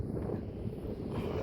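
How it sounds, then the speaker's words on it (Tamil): Strong wind blows across the microphone at an outdoor T20 cricket knockout match, a steady low buffeting rumble with no speech. "இன்னைக்கு காற்று நல்லா அடிக்குது"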